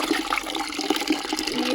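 Water runs and splashes into a tea pot left to soak, a steady close gushing pour with bubbling for the whole stretch.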